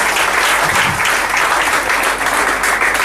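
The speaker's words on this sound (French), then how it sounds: "Sous les acclamations." Loud, dense applause fills the space throughout, a steady roar of many clapping hands with scattered cheers mixed in.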